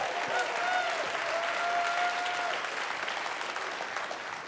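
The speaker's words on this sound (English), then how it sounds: "Hey, y'all give Jerry a good round of applause." Church congregation applauding a preacher after a sermon, a steady dense wash of clapping from a large crowd that holds for several seconds and eases slightly at the end, with a faint tone in the room underneath.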